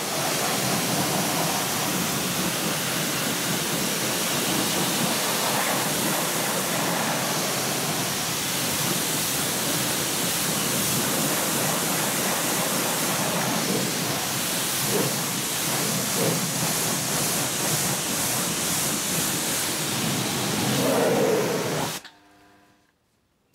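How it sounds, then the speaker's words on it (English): A pressure washer rinses brake dust and traffic film remover off a company car's wheels, producing a loud, continuous hissing spray that holds steady for over twenty seconds before cutting off sharply. "a contactless pre-clean with a traffic film remover and pressure rinse to quickly cut through a good deal of the surface brake dust"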